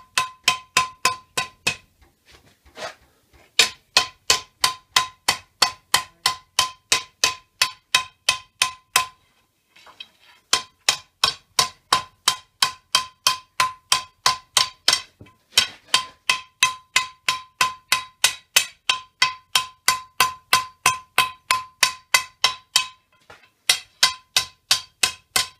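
Steady ringing hammer blows on the edges of a Damascus short sword at the forge, a fast regular rhythm of sharp metallic strikes with bright overtones, pausing briefly twice before resuming, close and loud with no talk.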